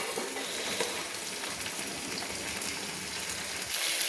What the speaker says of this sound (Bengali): এবার শিমগুলোকে একটু তেলে আমি কষিয়ে নেব।